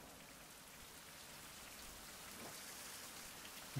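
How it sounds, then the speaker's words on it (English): Heavy rain pours steadily in the survival video game Fountain of Youth, a dense, even hiss with no voices, faint overall and ending on a small sharp tap. "that rain is so loud right now"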